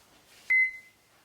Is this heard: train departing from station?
no